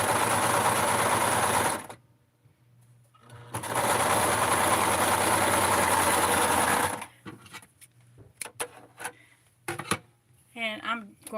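A sewing machine stitches fabric for Blythe and Skipper doll clothes in two steady, buzzing runs of a few seconds each, separated by a pause. Softer handling clicks and some quiet speech-like sounds follow at the end.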